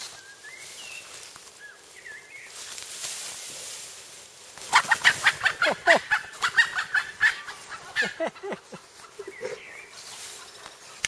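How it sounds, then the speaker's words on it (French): A hen clucks in a rapid run of short, loud calls outdoors, with brief chirps and low background noise before and after. "c'est une poule"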